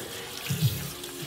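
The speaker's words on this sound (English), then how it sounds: "just run the water over it like that" Tap water runs over hair while conditioner is rinsed out during a classic pompadour haircut, a soft steady splashing stream close by with a slight swell in the middle.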